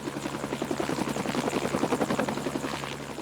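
Steady buzzing drone of in-game helicopter main rotors spinning on the ground with a Blizzard heli kit, a continuous rhythmic chop with a low hum, moderately loud and alone.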